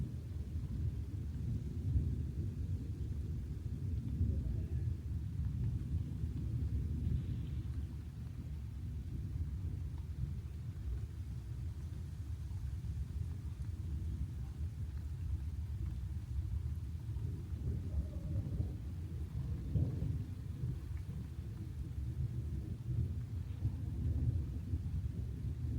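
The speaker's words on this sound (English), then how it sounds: "I hope you enjoyed the montage of the storm." Thunderstorm with continuous low rumbling thunder and rain hiss, a steady deep roar that swells and fades slightly over the whole stretch, with no voices.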